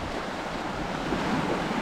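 Sea waves washing onto Sai Keaw Beach on the Gulf of Thailand near Pattaya, a loud continuous surf roar mixed with wind buffeting the microphone, with no talk.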